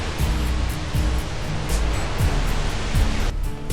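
Iguazu Falls roars as a dense, unbroken wash of rushing water, loud and close, with no voices over it.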